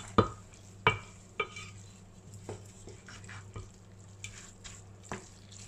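A utensil mixes fish pastilla filling with vermicelli in a pan off the heat, producing a few sharp scraping clicks and soft shuffling strokes at irregular intervals, quiet and close, with no talking.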